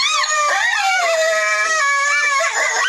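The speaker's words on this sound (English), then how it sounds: "the impression we are looking for is an aardwolf" A recorded aardwolf gives a loud, sustained, wavering howl with rising and falling pitch, one continuous plaintive cry with a whining edge, close and clear with no talk over it.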